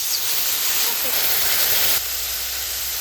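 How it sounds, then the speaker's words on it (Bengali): Water poured into a hot pan of ground coriander, cumin, red chilli powder and salt for a silver carp curry sends up a loud, steady steam hiss that holds for about two seconds, then drops to a quieter sizzle. "এবার দেবো জল"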